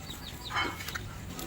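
Backyard chickens kept at a rural home cluck once or twice at close range, a short clear call standing over a steady hum of outdoor background noise.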